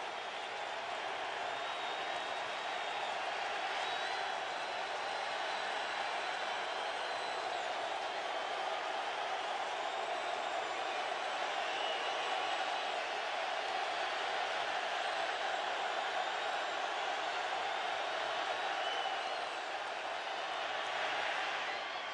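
The home crowd cheers at a 49ers vs Falcons football game, a broad, sustained stadium roar of massed voices that stays steady and fairly distant the whole time.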